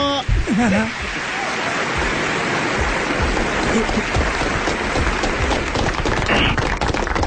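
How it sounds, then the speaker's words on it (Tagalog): Studio audience clapping on a Filipino late-night TV show, a dense, steady patter that sounds like rainfall, holding loud and even throughout with a voice speaking over it near the start. "Ang pangit ng palakpak mo, parang umuulan."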